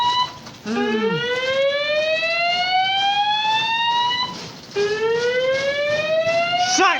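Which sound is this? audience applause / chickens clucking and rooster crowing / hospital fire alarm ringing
hospital fire alarm ringing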